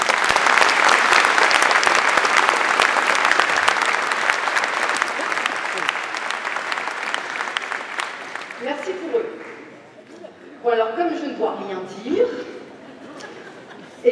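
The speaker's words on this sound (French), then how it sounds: "Je voudrais juste qu'on les applaudisse" Loud applause from the audience at a municipal New Year's greetings event in Port-Jérôme-sur-Seine, a thick sustained round of clapping that thins out and fades, after which voices and some light laughter follow.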